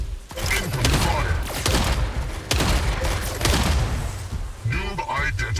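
Incoming weapon fire in the robot battle game Mech Arena, a steady run of heavy thudding shots and mechanical impacts, fairly loud, with a voice speaking briefly over it.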